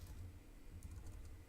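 Faint, quiet computer keyboard typing, a loose patter of small clicks over a low hum while someone works in a drawing program.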